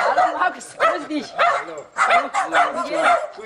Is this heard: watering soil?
no